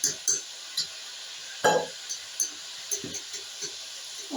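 A spoon stirs blended masala of onion, tomato and green chilli with yogurt in a pot for chicken angara, making intermittent scrapes and clinks against the metal along with a light sizzle.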